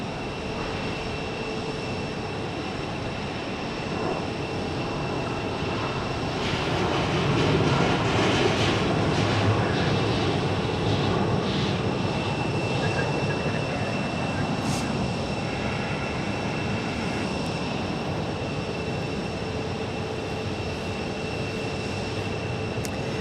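An American Airlines jet arriving at Phoenix airport: a broad, steady roar of jet engines that swells toward the middle and stays loud, with a faint voice underneath.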